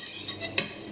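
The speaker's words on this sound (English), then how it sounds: "Give everything a stir." A spoon stirs milk with saffron and cardamom in a pan, giving a few light scrapes and one sharp clink against the metal, close and fairly quiet with no voices.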